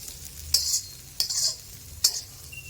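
Curry leaf powder ingredients, garlic among them, are dry-roasted in a pan, heard as three distinct stirring scrapes over a faint crackle; close and quiet, no talking.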